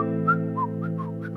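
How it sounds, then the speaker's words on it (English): A person whistles a short melody of several gliding notes during a guitar lesson, over a steady sustained guitar chord. "I can't whistle very well."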